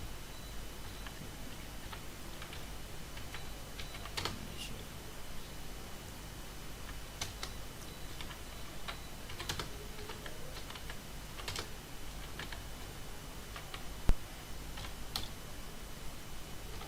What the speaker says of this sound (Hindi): और इसमें हम टाइप करेंगे